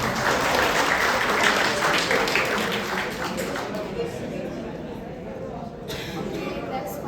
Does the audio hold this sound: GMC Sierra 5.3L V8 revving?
no